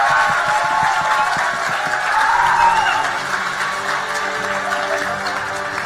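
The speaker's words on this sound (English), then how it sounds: "let's give them one big round of applause" Applause and cheering from a convention crowd at a live Summoners CON 2014 show match, a steady, dense wash of clapping sustained throughout, fairly loud and unbroken.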